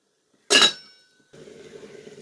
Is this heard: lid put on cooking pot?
yes